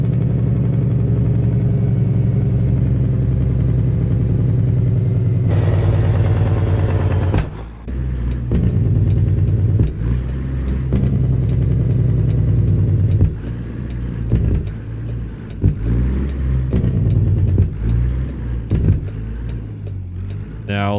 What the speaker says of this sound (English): is what you call a Jake brake